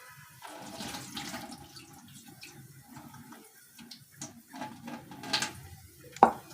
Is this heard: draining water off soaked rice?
yes